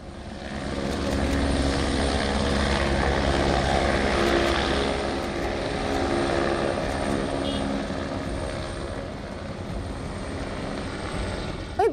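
A helicopter hovers during a flood rescue, its rotor and engine making a steady, loud, droning roar that holds for the whole stretch and eases slightly near the end.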